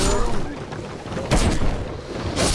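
Explosions in Dark Souls II, heard as two rumbling blasts a second apart with noisy game ambience between them.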